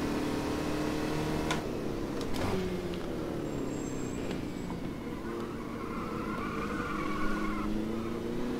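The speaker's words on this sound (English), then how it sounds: "That's what happens when you turn into one of these things without any throttle and you didn't really account for the lift-off oversteer." A stock car in a racing video game corners and slides, with steady engine drone and a long, continuous tire squeal and skid running throughout.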